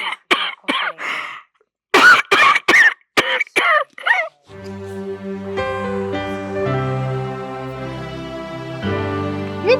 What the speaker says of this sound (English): You're coughing again.